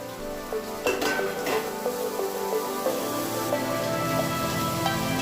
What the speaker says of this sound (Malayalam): ഇഞ്ചി, വെളുത്തുള്ളി, കറിവേപ്പില, പച്ചമുളക്, ഇത് 4 കൂടെ ചേർത്ത് ഒന്ന് വഴറ്റി